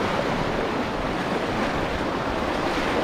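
A swollen mountain river in Ramgarh, Uttarakhand, rushes past in a steady, loud, broadband roar, continuous and close, with wind buffeting the microphone and no voices.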